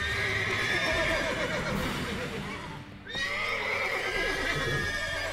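A horse in The Witcher 3 neighs loudly and gallops, with sustained whinnying over hoofbeats, a short dip in the middle, then renewed neighing close by.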